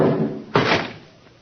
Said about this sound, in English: Baldy kicked the door shut.